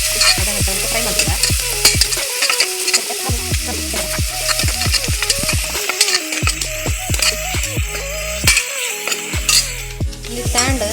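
Mutton pepper masala is fried in a pan until brown, with a metal spoon stirring and clanking against the pan in quick, repeated strokes over a continuous sizzle. The stirring pauses briefly now and then.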